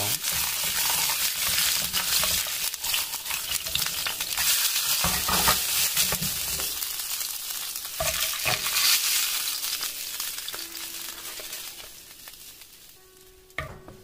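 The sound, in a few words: fish slices pan-frying in oil in a non-stick pan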